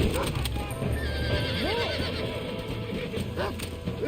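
A horse whinnies loudly in the Western video game Red Dead Redemption, a rising and falling neigh over steady clip-clopping hooves and background game ambience.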